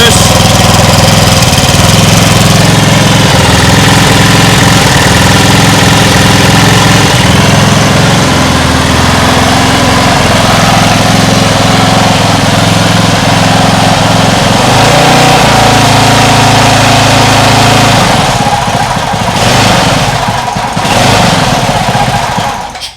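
A homemade outboard motor built from a lawn mower engine runs steadily for the whole stretch, loud and close, a droning small-engine chug whose pitch shifts slightly partway through, then falters near the end.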